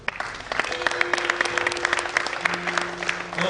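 Applause and cheering from the crowd at a university prize giving ceremony, a steady wash of many clapping hands with a sustained tone running beneath it.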